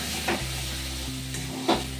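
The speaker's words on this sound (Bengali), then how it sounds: "এখন ছোলার ডালটার সঙ্গে ভালো করে মশলাটা এভাবে একটু কষিয়ে নিচ্ছি" Ground chana dal paste sautéing with spices and turmeric in a pan over low to medium gas, a steady close sizzle with a couple of soft scraping stirs.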